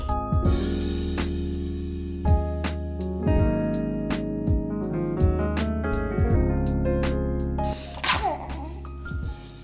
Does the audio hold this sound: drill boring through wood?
no